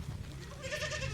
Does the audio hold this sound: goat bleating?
yes